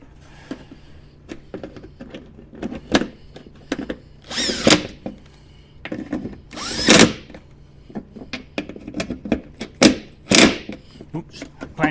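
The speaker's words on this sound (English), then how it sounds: "And I've got this little rattle gun here to do these up, but these are going into cast aluminium" A handheld rattle gun (impact wrench) drives bolts into cast aluminium on an 80 series wiper mechanism, firing in several short, loud bursts separated by pauses, with someone talking between them.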